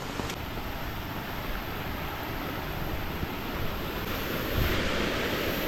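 A small jungle waterfall gives a steady, even rushing roar of falling water that fills the whole scene without a break.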